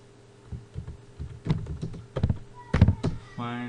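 Keys clatter on a computer keyboard while someone types in MS Word, a quick uneven run of close taps with short pauses, followed by a brief tonal hum near the end.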